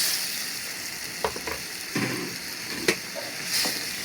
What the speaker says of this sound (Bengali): এবার ভালো করে নেড়ে চেড়ে হালকা জল দেব